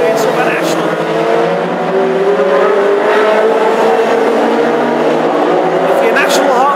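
Classic hot rods race around an oval track at Northampton in a Midland Championship final, engines roaring and revving continuously and loudly with tyre noise, while a commentator talks over the racing.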